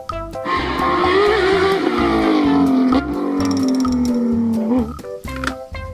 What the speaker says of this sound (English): Car racing. Mobil balap.